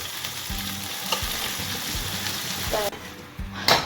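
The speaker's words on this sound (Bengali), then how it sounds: "ওই যে পেঁয়াজের যে পেস্টটা হয়েছিল সেটা এবার সাদা তেলে ভাজা হবে" Loud, crackling sizzle of onion paste frying in white vegetable oil, with a utensil stirring and scraping at a steady rhythm.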